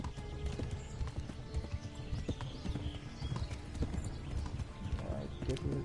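A horse trots in the Kingdom Come Deliverance video game, with continuous rhythmic clip-clop hoofbeats and a brief whinny near the end, moderately quiet, with faint game ambience and a voice nearby.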